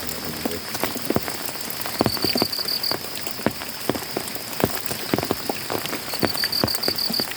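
Steady rain falls on a surface outdoors, with dense patter and sharper drips throughout, while frogs or insects trill faintly in the background and no one speaks.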